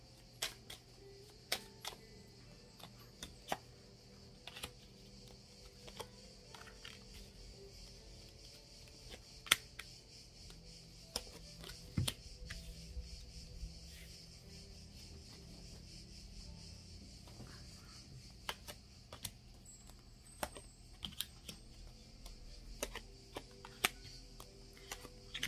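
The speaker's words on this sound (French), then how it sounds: "Je dispose les cartes" Soft, sparse taps and light slaps of playing cards being laid out one by one on a table in a quiet room, faint and irregular with no talking.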